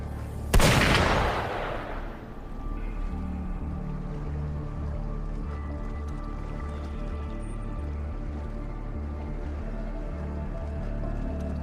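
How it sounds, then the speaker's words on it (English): A single sharp gunshot cracks loudly near the start of a scene in the video game Wuthering Waves, followed by a steady low mechanical hum and faint ambient tones. "Gunfire!"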